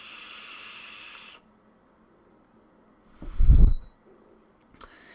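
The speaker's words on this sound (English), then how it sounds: "It is rather loud airflow" Loud airflow is drawn through a Smok Alien 220 watt vape kit, a short breathy rushing draw heard close up, with a steady hiss before it and a brief hissy tail after a pause.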